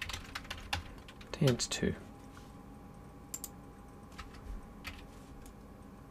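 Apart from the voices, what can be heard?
typing a file name on a computer keyboard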